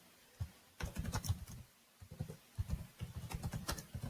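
Rapid keystrokes on a computer keyboard, typing text about a cheetah in bursts of clicks with short pauses, close and fairly quiet, no talking.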